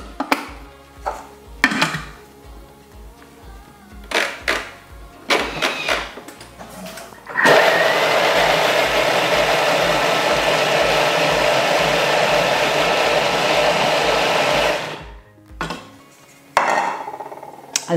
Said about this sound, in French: Je vais déjà mixer le tout.